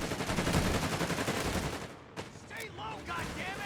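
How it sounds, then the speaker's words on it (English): Dense, continuous automatic gunfire from a machine gun in the Company of Heroes 3 strategy game, a loud sustained burst that fades after about two seconds, followed by scattered lighter game effects. "Machine gun wipe"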